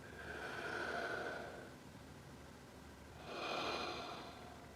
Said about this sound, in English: Breathing in.